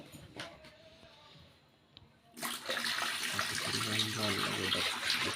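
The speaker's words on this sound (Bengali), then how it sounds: "আমরা আজকে নতুন অ্যাকোরিয়াম চালু করতেছি এই যে জল দিচ্ছি" Water is poured into a new home aquarium, a rushing, splashing stream that starts abruptly partway through after a quieter stretch and continues steadily, close by.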